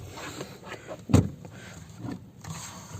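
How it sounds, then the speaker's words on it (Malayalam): An electrically adjusted window on a Tata Tigor EV car, with a short motor whir and a sharp clunk as the glass seats in the middle, followed by soft cabin rustles and thumps. "ഇതാ ഗ്ലാസ് നമുക്ക് ഇലക്ട്രോണിക്കലി അഡ്ജസ്റ്റബിൾ ആണ്."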